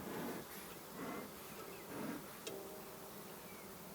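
Honeybees buzz around an open hive during a beekeeping inspection, a faint, steady drone with slight swells as bees pass near, plus one brief click partway through.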